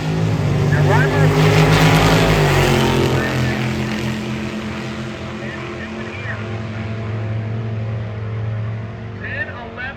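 A Ford-powered Willys gasser roars down a drag strip, its loud engine blaring strongest in the first few seconds, then holding a steady, slightly fading drone.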